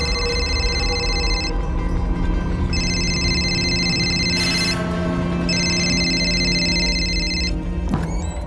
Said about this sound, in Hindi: रिंग जा रही है, कोई पिक नहीं कर रहा है सर